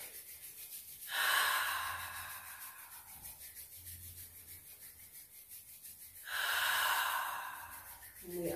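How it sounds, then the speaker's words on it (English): Two long, deep inhales through the nose, each a rushing, airy breath close to the mic, separated by a quiet pause during guided relaxation. "Let's take a deep inhale in."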